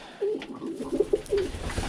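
Birmingham Roller pigeons coo nearby, several soft rolling coos spaced across a couple of seconds, clear and fairly loud against a quiet background.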